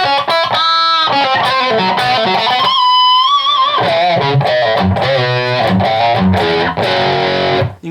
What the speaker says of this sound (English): But when you have some cool distortion pedals